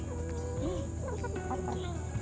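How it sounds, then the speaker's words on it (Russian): Farm chickens cluck and murmur close by in a steady, busy chatter, with a few sharper calls rising over the flock. "Такие контактные курицы."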